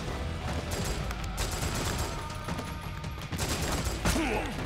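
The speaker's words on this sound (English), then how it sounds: "This gun kicks ass against Vamp." Rapid gunfire in Metal Gear Solid 4, a dense stream of shots like a machine gun firing steadily for several seconds, moderately loud, with a faint voice in the background.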